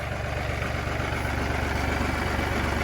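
A tractor engine idles in a steady, dense, rumbling drone that stays even throughout the clip.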